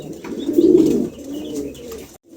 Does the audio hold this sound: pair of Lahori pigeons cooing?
yes